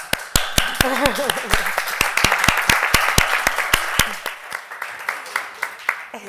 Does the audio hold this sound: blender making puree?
no